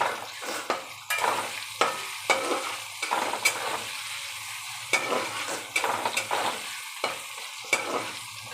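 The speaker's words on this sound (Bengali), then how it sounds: "আলুটা বেশ লাল করে ভাজা হবে যাতে কষাতে কষাতেই একদম সেদ্ধ হয়ে যায়" Potatoes fry in a pan, a steady sizzle broken by repeated scraping stirs of a spoon against the pan, close and clear with no talking.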